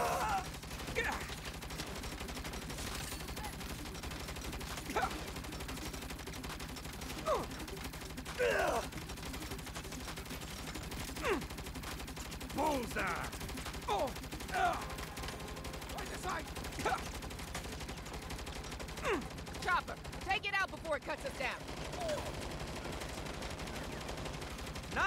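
Scattered gunshots and bursts of automatic fire in the Saints Row video game, sharp cracks over a steady engine-like drone, with a voice briefly heard.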